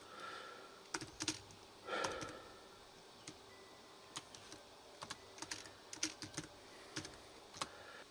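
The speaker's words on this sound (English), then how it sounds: "So I'm going to type that in for myself." Computer keyboard typing, sparse irregular clicks and taps spread across the span with a few brief clusters, close but quiet, with no talk.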